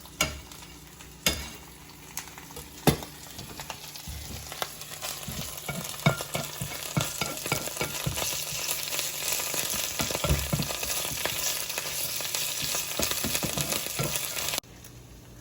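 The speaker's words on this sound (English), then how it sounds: "And then I'll put some sweet basil and saute that" Sweet basil sizzles in hot oil in a pan, a steady close crackle with frequent stirring clicks and scrapes, continuing until an abrupt stop near the end.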